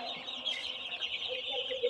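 Chickens cluck close by on a poultry farm, overlapping busy clucks and chirps forming a continuous flock chatter.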